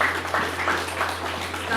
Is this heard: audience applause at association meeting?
yes